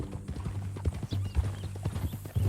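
Horse hooves clip-clop in a steady, close rhythm in the Red Dead Redemption 2 video game, with a faint occasional whinny and no talk.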